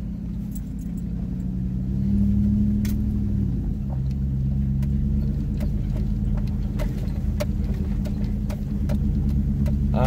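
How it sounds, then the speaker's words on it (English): A Chevrolet Silverado truck crawls along an off-road trail in four-wheel drive low and third gear, its engine a steady, loud low drone while light rattles and clicks sound from the cab. "I'm still running in four-wheel drive low, but I'm in third gear."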